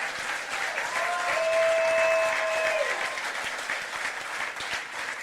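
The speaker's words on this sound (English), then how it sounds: "Please also give a round of applause to the diamonds of my heart, my daughters Gabriella and Sophia" Sustained crowd applause fills the room at a political concession event, honoring the speaker's daughters; dense steady clapping with a brief cheer or whistle over it, swelling slightly then holding.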